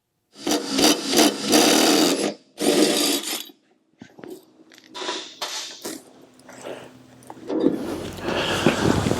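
Short bursts of a power tool on the blade hardware of a John Deere X530 mower deck, loud and close, with gaps and scraping, clanking handling noises in between.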